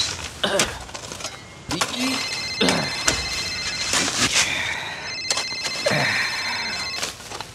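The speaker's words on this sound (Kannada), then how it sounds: "ಗೋಪಾಲ ಫೋನ್ ಎತ್ತೋ, ಅರ್ಜೆಂಟ್ ಇದೆ." A mobile phone ringtone plays in two bright, sustained bursts in an indoor scene of a Kannada web series, with people talking over it and some clicks and knocks.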